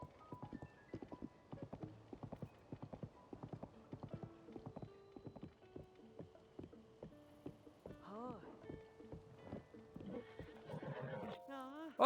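Horse hooves clip-clop in a steady galloping rhythm, followed by several whinnies near the end, all from a horse in the video game Zelda Tears of the Kingdom, heard clearly with no talk over it.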